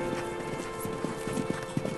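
Horses in a race on a frozen lake at White Turf, hooves clip-clopping in a steady rhythm at a moderate distance over a constant background hum.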